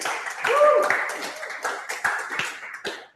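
A small audience claps, scattered and uneven, loud at first and then thinning out into separate claps, with a bit of voice mixed in.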